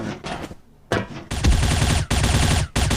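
Gunfire from an MC1A gun in the shooter game Bullet Angel: sharp shots come first, then rapid sustained bursts of automatic fire broken by short gaps, loud and close.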